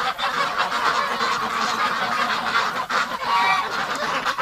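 Ducks on a winter farm at about -3 degrees, a dense, loud, continuous chorus of honking and quacking from many birds close by, with no speech.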